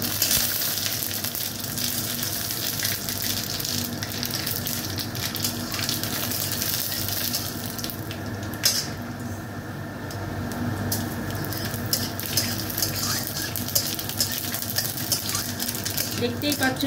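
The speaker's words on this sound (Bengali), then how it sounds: "দেখতেই পাচ্ছ সর্ষেগুলো ফুটছে" Mustard seeds spluttering and crackling in hot oil as a tempering for a radish, chalta, coconut and date-jaggery chutney, a dense continuous sizzle with rapid popping heard up close, with a voice talking over it.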